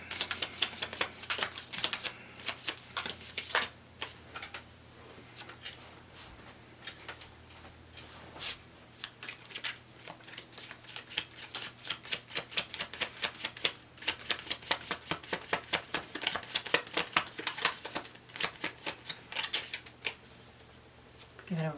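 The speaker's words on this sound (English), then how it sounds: "Give it a really nice shuffle." Tarot deck being shuffled by hand during a horoscope reading, quiet repeated riffling and card snaps going on throughout, soft and close with little else around.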